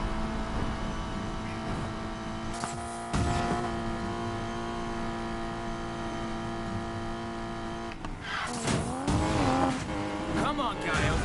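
Porsche race cars, including a Porsche GT4, racing in Need for Speed Payback, with a steady high engine drone throughout and sharp tire squeals and skids near the end, with talk over parts of it.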